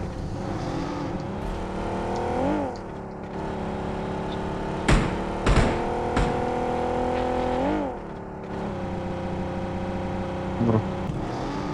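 A vehicle is driven across the Erangel map in PUBG, its engine droning steadily and rising in pitch several times, with a few sharp cracks cutting in midway.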